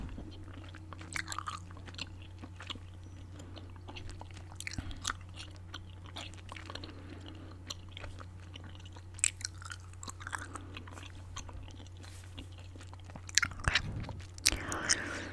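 Fresh gum chewed close up in a quiet room, with soft, irregular wet clicks and smacks scattered through the whole stretch over a steady low hum, a little louder toward the end.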